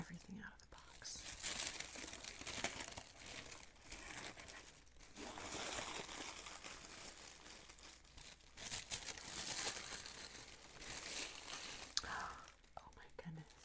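Tissue paper crinkles and rustles steadily during an ASMR unboxing of a Hygge Box, close and soft but continuous, with quiet whispering throughout.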